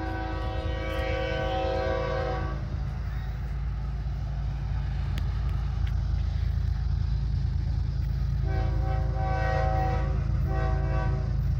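Locomotive horn with a fairly low pitch sounds in long sustained blasts at the start and again near the end, over a constant loud rumble of the passing train, with no voices.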